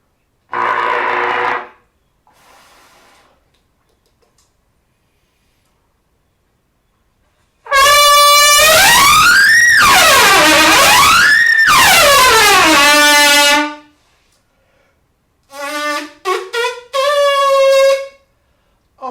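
A trumpet played with no warm-up blasts loud sustained high notes above double C, sliding up and down in long phrases, then a few shorter bright bursts after a pause.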